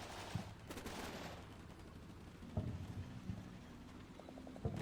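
American infantry gunfire in the tactical war game Combat Mission Black Sea: faint, scattered distant shots and short crackling volleys over a low ambient rumble.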